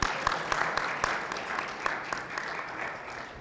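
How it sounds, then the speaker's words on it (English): An audience claps in a conference hall with a moderate, slightly uneven round of applause that stays fairly faint and continues steadily throughout. "Please, let's clap for the Chamber of Commerce."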